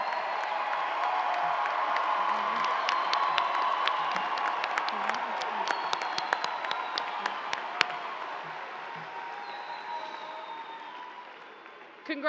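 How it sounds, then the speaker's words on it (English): Large audience at a university graduation ceremony applauds the graduating students, with sustained dense clapping mixed with cheers and whoops, steady for about twelve seconds before tapering slightly. "Let's give all of our graduating students another huge round of applause"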